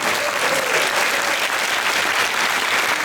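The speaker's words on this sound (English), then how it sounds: "give them a big round of applause" Loud, dense applause from a workshop audience filling the whole moment, a continuous close roar of many hands clapping at once with no pause.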